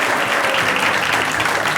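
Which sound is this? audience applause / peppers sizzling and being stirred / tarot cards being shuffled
audience applause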